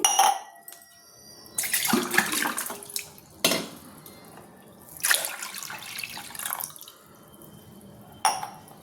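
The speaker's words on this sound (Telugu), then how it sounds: "వాటర్ యాడ్ చేస్తున్నానండి" Water pours into a bowl in several separate splashing bursts with quieter dripping between them, close by, along with a few light clinks of the bowl.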